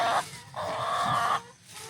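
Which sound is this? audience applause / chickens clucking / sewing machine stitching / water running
chickens clucking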